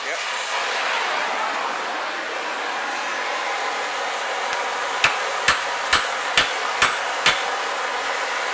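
Six sharp hammer blows on a stuck outboard lower unit oil drain plug, in a steady rhythm over a constant broadband hiss, following a stretch of just background noise.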